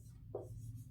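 A single short stroke of writing on a classroom board, a brief scratchy swipe lasting a fraction of a second over a low steady hum.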